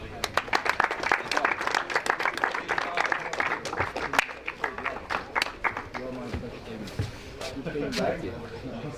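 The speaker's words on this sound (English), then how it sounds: "Round of applause one more time, thank you." Audience applause for the podium finishers at a karting race, dense clapping from a crowd that builds and then thins out, with voices and chatter mixed in throughout.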